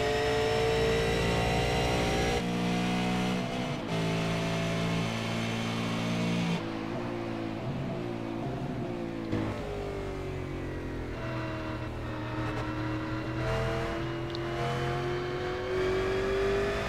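A race car engine in a racing video game at Monza, held at high revs on a victory lap, with steady harmonic whine rising and falling through gear changes and throttle lifts, loud and continuous with no talk.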